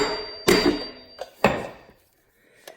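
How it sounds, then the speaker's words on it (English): A small hammer taps a cotter pin on a dirt bike during a sprocket change, giving a few sharp, close metallic strikes spaced apart, the last one fainter, with a brief ringing tone after the first. "Cotter pin, remember, always use a small hammer so you don't break the cotter pin."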